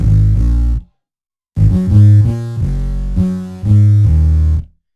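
A bass runs through the Roar distortion saturator in the Dawesome Hate effects plugin, producing loud, gritty, sustained low notes played in short phrases, with a brief silent gap and no talking.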